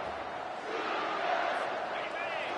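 A football stadium crowd roars in a sustained, fairly distant wall of cheering that swells slightly midway, with an announcer's voice over it.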